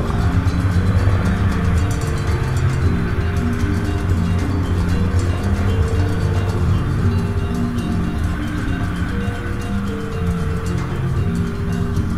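Cars drive past on a road by the Loch Lochan waterfront in Bloemfontein, a continuous loud traffic rumble and tyre hiss with passing engines blending together, no talk.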